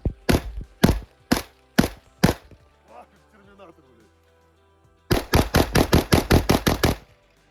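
Kalashnikov rifle shots at a winter shooting range in Russia: five spaced single shots, a quiet pause with faint sounds, then a rapid string of about ten loud shots, sharp and close.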